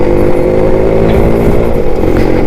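A Suzuki Shogun 110cc two-stroke motorcycle engine runs close and loud, a steady buzzing drone with no voices.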